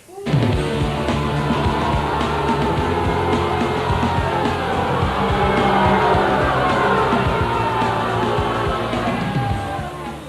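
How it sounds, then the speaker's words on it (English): A television studio audience booing loudly at a guest introduced as Reverend Matt Hale, a sustained dense roar of jeers and yells that starts abruptly and carries on for about ten seconds without letting up. "I guess you don't mind the booing."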